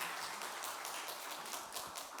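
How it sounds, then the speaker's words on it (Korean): A church congregation applauds during a Sunday service, and the clapping sounds soft and somewhat distant, a steady patter of many hands throughout. "축복의 박수 부탁드리겠습니다"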